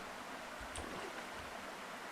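Steady rushing water noise of a waterfall in a melee survival video game, a dense continuous wash with a faint low rumble underneath, heard at moderate distance with no talking.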